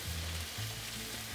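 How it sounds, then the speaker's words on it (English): Potatoes sizzle and crackle in a hot skillet, a steady close frying hiss with low stirring thumps from the pan throughout. "Now I'm gonna put my potatoes back into the skillet."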